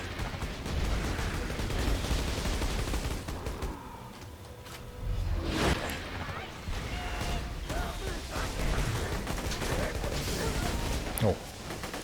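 Rapid gunfire in Borderlands 2, with bullets reflected back, crackles continuously in dense bursts, loud and close, with a few sharper cracks.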